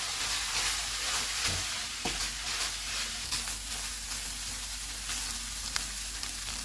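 Onion, capsicum, green chilli and coriander frying in a pan, producing a steady close sizzle and hiss throughout with a few brief stirring scrapes.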